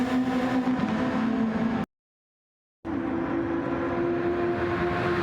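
Formula 1 cars in a racing video game at Monza drag down to turn one, a loud sustained high engine whine with a steady tonal drone, cut by a second of silence before the roar resumes.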